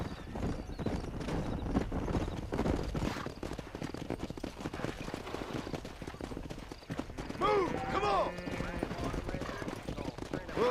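Hooves clip-clopping steadily as horses are ridden while herding cattle in Red Dead Redemption, with a horse whinnying near the end under constant outdoor game noise.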